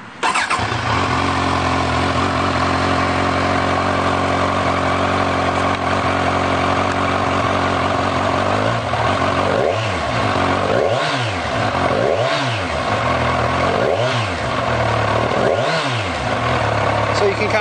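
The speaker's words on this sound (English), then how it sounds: "let's push the button and we'll crank it up and take a look at that tachometer" A brand-new 2014 Kawasaki Z1000 ABS motorcycle engine idles steadily at close range, then is revved in five or six short, rising-and-falling blips over the second half.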